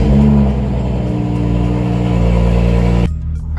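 A 2011 BMW 335 engine runs loud and close with a deep rumble and a brief rev at the start. It settles into a steady idle, then drops away suddenly near the end.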